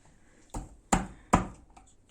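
Green garlic chopped with a knife on a board for kısır: three sharp, close thuds spaced about half a second apart, with a fourth starting at the end, over a quiet room.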